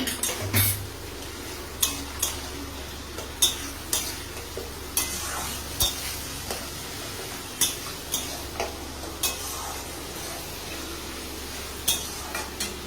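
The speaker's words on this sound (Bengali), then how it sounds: "রসুন দিয়ে ভালো করে কষিয়ে নিচ্ছি" Garlic sautéing in a pan for Bengali mutton curry: a low steady sizzle under repeated sharp spatula clicks and scrapes against the pan, roughly one every second, close and fairly loud.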